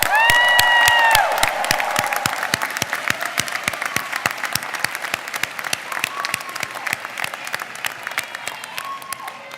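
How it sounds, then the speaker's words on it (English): A large commencement audience claps steadily for several seconds, a dense wash of applause that starts loud, eases slightly, and continues with scattered faint whoops. "Let's also give another round of applause to all the people"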